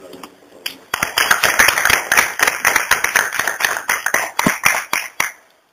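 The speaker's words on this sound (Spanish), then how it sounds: "Lo recibimos con fuertes aplausos." Applause at a medical lecture welcoming a doctor to the podium. The clapping sounds fairly sparse and individual, with distinct hand claps that build quickly, continue steadily for about four seconds, then taper off.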